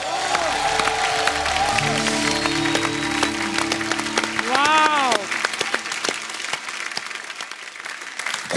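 Studio audience applause on the Kapil Sharma Show comedy set, loud and sustained across the whole stretch, with sung or held musical tones and a voice layered over the clapping early on.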